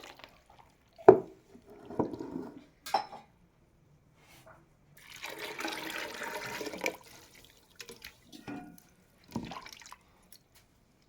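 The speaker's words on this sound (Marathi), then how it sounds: "हे बघा स्वच्छ धुवून घ्यायचे ते एकदम असं हे करून चोळून घ्यायचे. स्टार्च पूर्ण काढायचं ह्याच्यातलं" Sago pearls are rubbed and washed by hand in a bowl of water to strip their starch, giving scattered close splashes and knocks and one longer swishing stretch of churning water, with quiet gaps between.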